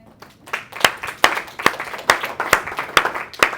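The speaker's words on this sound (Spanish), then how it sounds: "dan un aplauso a Cristo" A church congregation claps in a slow, regular rhythm, distinct sharp claps about twice a second, fairly close and with little talk.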